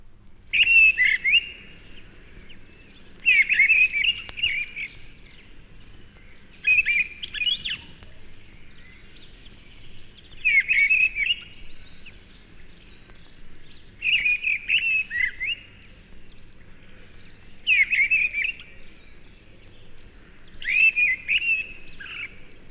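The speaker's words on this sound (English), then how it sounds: "Wood pigeon, mistle thrush, wren, and the brisk warbling of a hedge sparrow join together in this Kent chorus." Kent woodland dawn chorus of wood pigeon, mistle thrush, wren and briskly warbling hedge sparrow; clear bright phrases of birdsong repeat in regular bursts every few seconds over a quiet, low background.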